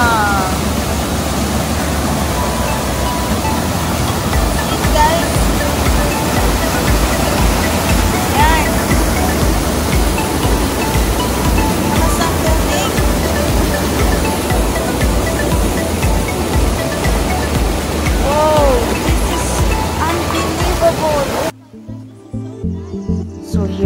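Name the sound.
strong current of clear spring water, Cauhan Spring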